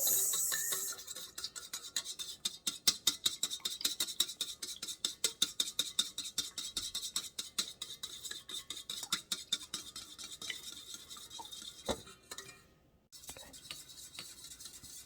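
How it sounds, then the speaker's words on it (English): Ingredients are mixed by hand in a bowl in a home kitchen, a fast, steady run of scraping, clinking strokes up close that slows and breaks off near the end, with no talk. "Give it a good mix."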